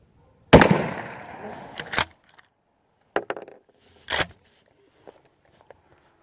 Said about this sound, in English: So smoke pole off safe here and shoot straight at it